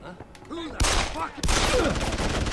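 Enemy gunfire in the video game Deus Ex: Human Revolution: two loud bursts of rapid automatic shots, the second continuing to the end, close and harsh, with a voice faintly underneath.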